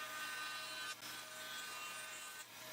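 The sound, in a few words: bandsaw cutting wood for a guitar cavity cover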